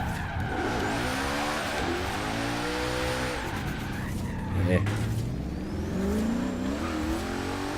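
Car tires skidding and squealing in the racing game Forza Horizon 3 while the engine revs through direction changes, loud and continuous, with someone talking over it.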